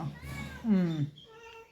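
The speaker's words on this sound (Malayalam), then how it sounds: "ഈ കരച്ചിൽ തന്നെയുള്ളൂ മ്യാവ് മ്യാവ് മ്യാവ് എന്ന് പറഞ്ഞിട്ട്" A cat meows up close in a single drawn-out, rising and falling cry, with a person's voice talking around it.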